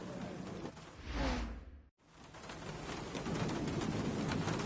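Steady rain hiss in the F1 2015 racing game at the Sochi circuit for the Russian Grand Prix, with a swelling whoosh, a brief dropout, then rain resuming at an even, moderate level.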